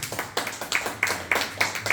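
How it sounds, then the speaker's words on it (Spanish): A church congregation claps along in a steady rhythm of sharp, close hand claps, about three per second, briefly filling a pause in a Spanish-language sermon. "Denle un fuerte aplauso al Señor,"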